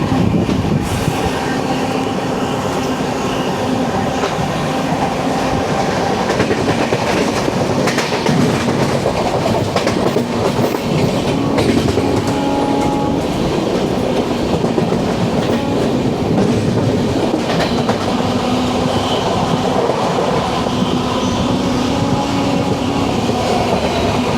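A passenger train runs along the main line near Tripunithura station in Kerala, with a continuous rumble, rhythmic clickety-clack of wheels over rail joints and occasional faint squeals, steady and close throughout.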